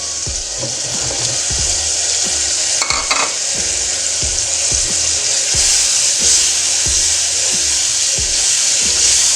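Masala with carrots frying and being stirred in a pan, a steady loud sizzle with repeated scraping spoon strokes in an irregular rhythm, close up and without voices.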